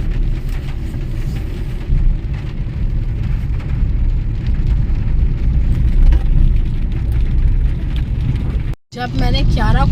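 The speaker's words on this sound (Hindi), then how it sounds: "पर भाई अब ऐसी बारिश हो रही है कि बस क्या बताऊँ" Heavy rain pours steadily in a continuous dense hiss with a low rumble beneath it, and a brief dropout near the end is followed by a voice.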